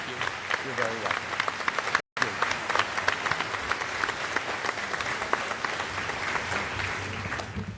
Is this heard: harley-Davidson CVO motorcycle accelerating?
no